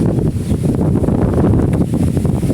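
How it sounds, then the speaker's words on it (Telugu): Strong storm wind in Kuwait blows through trees, a steady roaring rush with heavy microphone buffeting and rustling, loud and continuous without talk. "ఎంత గాలి వేయడం చూడండి"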